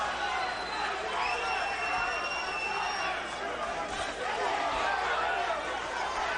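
A boxing arena crowd reacts during a fight, keeping up a continuous murmur and roar in the background. A commentator talks over the crowd noise throughout.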